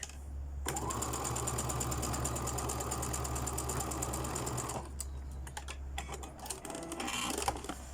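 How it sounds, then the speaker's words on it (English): A sewing machine stitches fabric along a zipper coil in a steady, fast mechanical whir for about four seconds, then stops and gives way to a few faint clicks and handling sounds, near and without talk. "We've stitched the fabric right next to the coil"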